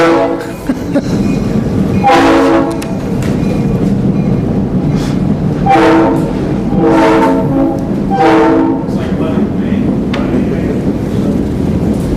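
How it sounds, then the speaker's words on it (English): A passing train sounds its horn in four long blasts over a continuous loud rumble of rolling wheels, heard from inside a city council meeting in Lebanon, Oregon. "For those of you on Facebook, the train's going by."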